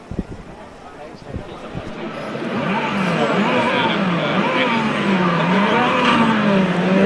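Cars race and skid in the Burnout 3 video game, a sustained engine roar with sweeping pitch and tire squeal building after a quieter, clattery start, under the noise of a busy expo hall with voices around.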